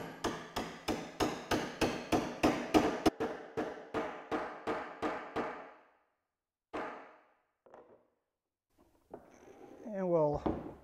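Steady, loud hammer blows drive a bolt through a wooden centerboard for a Haven 12 1/2 boat, about fifteen evenly spaced strikes, then a few scattered knocks and a short burst of talk.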